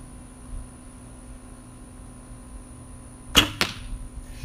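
A harvester arrow is shot from a bow in a backyard, a sharp release snap followed quickly by a second crisp impact thwack, standing out against quiet outdoor background hiss.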